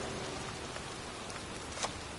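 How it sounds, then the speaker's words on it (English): Steady, soft rain hisses over a cemetery in the game Heavy Rain, an even wash of drops with a couple of sharper spatters near the end and no voices. "It's cold. It's raining."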